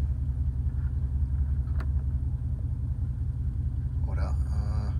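A Dodge Durango's engine drones steadily from inside the cabin while driving in cold 35-degree weather, a constant low rumble that carries through to the end, where a person starts talking over it.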